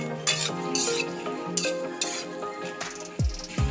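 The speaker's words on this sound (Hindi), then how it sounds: "इन सब डालने के बाद मैं अच्छी तरह से सब्जियों को मिला लेती हूँ।" Vegetables being stirred with vinegar in a frying pan for a restaurant-style chilli soya dish, with close metal utensil scrapes and clinks over a soft sizzle and a few louder knocks near the end.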